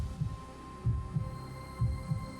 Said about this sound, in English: her heart pounding in her chest.